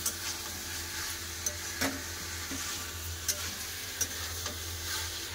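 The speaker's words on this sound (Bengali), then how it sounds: "এবার দিয়ে দেবো কেটে রাখা টমেটো, টমেটোটা একটু কষে আবার ঢাকা দিয়ে দেবো" Chopped tomato sautéing in a pan of meat curry, a steady low sizzle with occasional scraping stirs and light clicks of a utensil, no voices.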